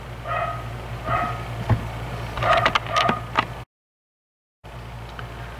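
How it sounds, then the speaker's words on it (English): A dog barks repeatedly at a middle distance, a string of sharp, ringing barks with short gaps over a steady low hum, then a brief cut to silence before the faint background returns. "That barking dog was just getting so annoying I had to go ask it very nicely to be quiet."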